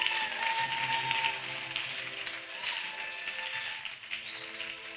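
A church congregation applauds and cheers God in a steady, dense wash of clapping that fills the whole stretch, broad and hissing like rain, with faint voices underneath and no clear speech.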